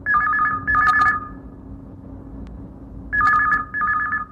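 An incoming call on a Hindi radio request show rings as a telephone with a trilling electronic double ring, two bursts, a pause and two more, loud and close over a faint background hum.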